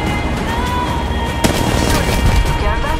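Gunfire bursts in the mobile battle-royale game Apex Legends Mobile, dense continuous shooting with a sharp crack near the middle, loud and steady throughout.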